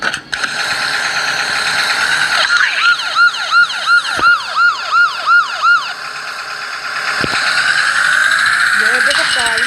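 A police car siren in the Roblox game Barry Prison Run wails in rapid rising-and-falling sweeps, loud and close, with engine hum and game noise around it and a voice talking briefly.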